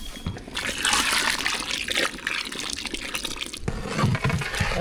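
Tamarind water pours into a cooking pot for a coconut-milk mutton biryani's thalicha, a steady close splashing and trickling stream that runs for nearly five seconds with a brief dip partway through.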